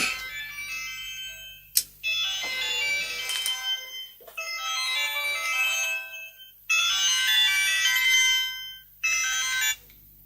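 A mobile phone ringtone plays a bright repeating melody in bursts separated by short pauses, loud and close, with no voices.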